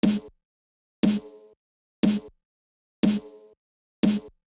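Two layered snare drum samples with much of the top end cut by a parametric EQ: five evenly spaced, dry, punchy hits about one second apart, each with a short tonal ring, separated by silence and without any talking.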